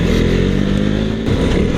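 KTM 390 Duke motorcycle being ridden, a loud continuous engine drone with throbbing low harmonics and slight revving, close and dominant throughout, no talk.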